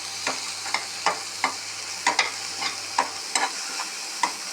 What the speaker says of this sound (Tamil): மஞ்சள் தூள் கொஞ்சம் நல்லா பச்சை வாடை போக நம்ம வதக்கிக்கலாம்.